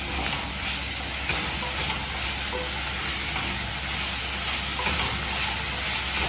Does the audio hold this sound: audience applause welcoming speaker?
no